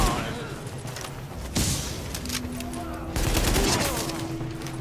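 Heavy gunfire from a big gun in Tom Clancy's The Division, sharp blasts and short bursts landing in clusters, close and loud, with game voices and tones running under the shooting.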